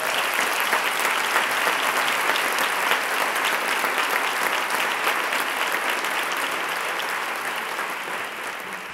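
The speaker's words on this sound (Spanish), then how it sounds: "un aplauso para todos ustedes por estar ahí sentados" An audience at a Christmas zambomba flamenco concert applauds, a loud, sustained wave of many hands clapping that stays full throughout and eases slightly near the end.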